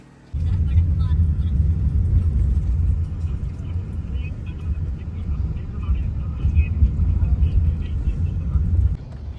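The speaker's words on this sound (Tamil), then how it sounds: "டிராஃபிக் பார்த்தீங்களா?" Busy road traffic rumbles steadily and loudly for around nine seconds as cars and heavier vehicles pass, with faint voices mixed into the noise.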